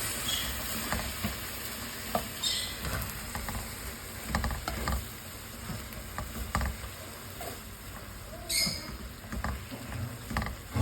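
Food being mixed in a pan while cooking ginataang santol with coconut and santol, with continuous soft sizzling, scraping and creaking stirring noises, faint clicks of a utensil against the pan, no voices.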